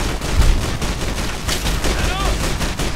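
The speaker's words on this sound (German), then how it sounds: "Gut, da habe ich daneben geschossen" Rapid automatic gunfire from the video game Fallout New Vegas, loud and sustained in dense bursts over three seconds, with brief game sounds mixed in.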